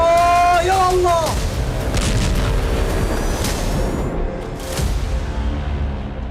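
A rocket explosion in a Gaza hospital parking lot: whistling, falling tones open into heavy booming blasts and rumbling bursts, loud and sustained, with voices underneath.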